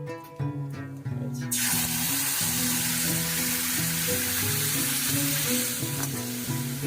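Ground spice paste sizzling and frying loudly and steadily in hot oil for a small crab curry, a dense continuous hiss with no talking.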